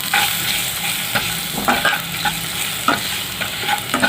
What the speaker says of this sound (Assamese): ভাজি লৈছোঁ ভালকৈ